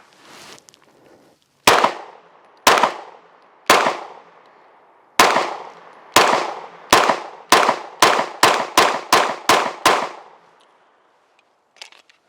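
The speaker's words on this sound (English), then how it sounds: "Let's run some shots down range." Taurus G3 pistol shots fired down range outdoors, a dozen sharp loud cracks, spaced at first and then coming faster in a quick string, each with a short echo tail, followed by quiet.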